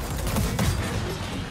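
Gunfire in a Gears of War match, a dense burst of shots in the low end under a steady wash of battle noise, close and loud.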